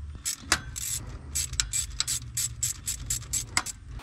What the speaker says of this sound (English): tighten up the hose clamp